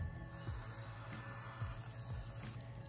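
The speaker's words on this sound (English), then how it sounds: "So let's start spraying here." Aerosol spray paint hisses onto a canvas in a continuous steady spray lasting nearly three seconds, close and moderately quiet, with no talking.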